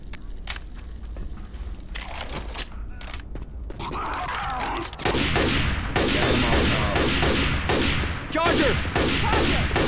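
Rapid gunfire fills a Left 4 Dead 2 firefight in dense, overlapping bursts that grow louder and more continuous partway through, with voices faintly mixed in.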